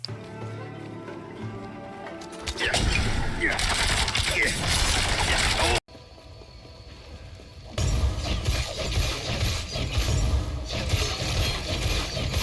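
A Rogue Smoke Grenade in Diablo 4 and a Smoke Bomb in Last Epoch go off as loud, dense bursts of mechanical clatter and whooshing game effects in two separate sections split by a sudden brief cut.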